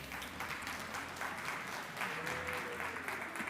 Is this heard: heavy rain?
no